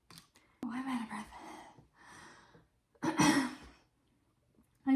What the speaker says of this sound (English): I'm like out of breath just from going down the stairs and coming back up the stairs